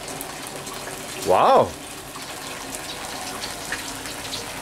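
A water pump sprays water in an outdoor height test, making a steady broadband hiss throughout. A person briefly exclaims partway through.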